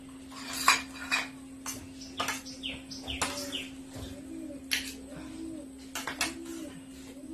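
Bowls and a serving spoon clink as payesh, a Bengali rice pudding, is portioned out at home. The sharp, close clatters come in scattered bursts over a steady low hum, with faint birds cooing in the background.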